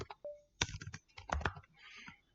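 Keys clacking on a computer keyboard as a Linux command is typed, a quick uneven burst of close, crisp taps with short pauses, no voice over it.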